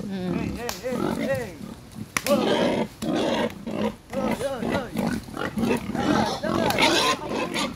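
Pigs being herded for sale squeal and grunt loudly in repeated overlapping bursts, close by, with someone talking among them.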